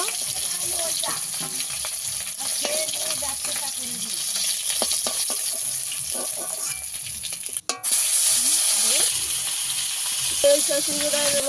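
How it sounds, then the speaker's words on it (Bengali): Fresh pond-caught fish frying in hot oil for a light Bengali curry, a loud, continuous close sizzle and hiss with occasional crackles and stirring knocks throughout, with no voice over it. "ভালো করে উল্টে পাল্টে ভেজে নেব।"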